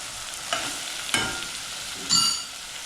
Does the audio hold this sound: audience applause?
no